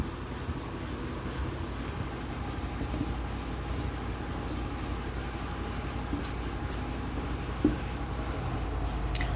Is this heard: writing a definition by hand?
yes